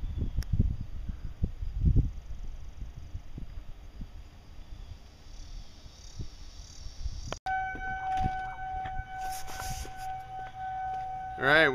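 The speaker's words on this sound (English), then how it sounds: "All right, we got some tornado sirens." A tornado siren wails steadily in the distance, joined later by a second siren tone, with rustling and wind noises over it.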